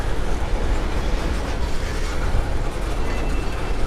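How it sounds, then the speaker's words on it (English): Freight train rolling past close by with a maintenance-of-way gondola loaded with new ties, a loud continuous rumble with steady wheel noise and no talk. "here comes a load of new ties in that MOW gondolier"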